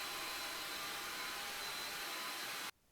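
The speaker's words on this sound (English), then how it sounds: "the next step is to use what almost every household already has: a hairdryer." A hair dryer blows steadily at close range on a dampened shirt with a loud, even whoosh, then cuts off abruptly near the end.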